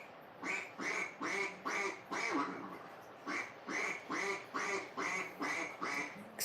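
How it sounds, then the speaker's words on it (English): Ducks quack in a steady run of loud, close bursts, about a dozen harsh calls in two groups with a short pause between, no talking over them. "Excuse my ducks, guys."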